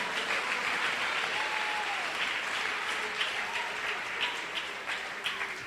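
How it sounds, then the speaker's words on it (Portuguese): A church congregation applauds in a dense, continuous wash of clapping that fills the room, loud and sustained, with faint voices beneath. "eu vou pedir para melhorar essas palmas"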